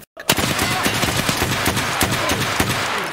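A TT pistol fires in a video game, a rapid run of loud, sharp gunshots starting after a brief silence and continuing steadily throughout.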